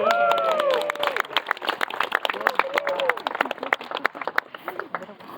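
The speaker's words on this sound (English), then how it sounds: "Go ahead and give them a nice round of applause." Outdoor crowd clapping for a sled dog mushing team in Denali, scattered claps mixed with barking and yelping dogs and some talk, thinning out toward the end.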